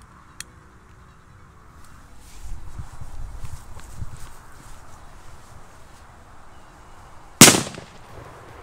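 A Zvonbum La Bomba 2-gram firecracker goes off in a single loud, sharp bang after several seconds of quiet footsteps and shuffling nearby.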